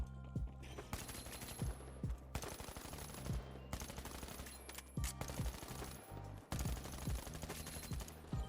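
Sustained automatic gunfire from a weapon held on the trigger in THE FINALS video game comes in long rapid bursts with short pauses between them, and deep booming impacts punctuate the steady chatter.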